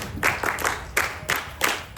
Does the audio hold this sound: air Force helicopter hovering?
no